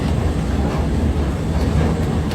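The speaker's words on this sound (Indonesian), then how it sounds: "Ini mau naik MRT jurusan Putrajaya." An MRT train in Malaysia runs at the Tun Razak station on the Putrajaya line, a loud, continuous rumbling roar of rail wheels with faint rhythmic clatter, and no talking.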